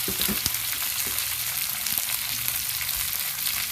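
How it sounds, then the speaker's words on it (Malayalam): Potato pieces fry in oil in a pan for Kerala-style potato mezhukkupuratti, with a steady loud sizzle close up and a few stirring knocks. "ഇതിലേക്ക് നമ്മൾ പൊട്ടറ്റ് ചേർത്ത് കൊടുക്കുകയാണ്"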